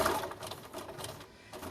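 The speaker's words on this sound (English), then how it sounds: "Sew straight across the bottom of this one." Sewing machine stitching a straight line across fabric: a close, steady mechanical whir with a fast, even needle chatter that runs for under two seconds.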